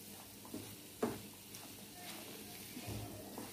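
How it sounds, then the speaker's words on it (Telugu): Potatoes and peas being stirred into a sizzling aloo kurma curry in a pan, soft scraping and clacking strokes with a sharper knock about a second in, over a low steady frying hiss. "ఈ ఆలు, బఠానీ అన్నీ వేసుకుని కలిపేసుకున్నాను"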